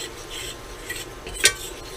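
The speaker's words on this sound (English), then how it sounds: "And stir that up." A spoon stirs flour into food in a pan for a quick pasta dish, a soft scraping and shuffling with one brief sharp clink of utensil on metal.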